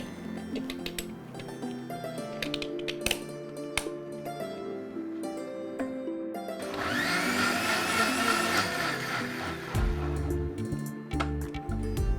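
A blender mixes a millet drink with ice cubes, a loud steady motor whir lasting several seconds after clinks and handling noises, with no talk.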